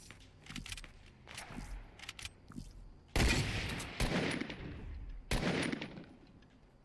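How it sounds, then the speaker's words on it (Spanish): Bursts of Fortnite gunfire crackle in a battle near a built structure, with sparse popping shots and then three loud, dense volleys in a row, with no talk. "Yo creo que estaban disparando por aquí a muerte"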